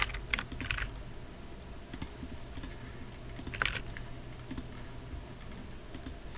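Username and password being typed on a computer keyboard, close, quick clusters of key clicks with short gaps between bursts.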